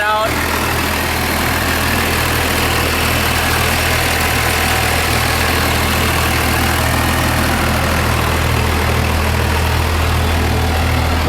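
Cummins diesel idling after an HX35 turbo swap and advanced injection pump, still on the stock intake: a steady, loud, close rumbling throb with a low rhythmic beat that never lets up, under a faint hiss.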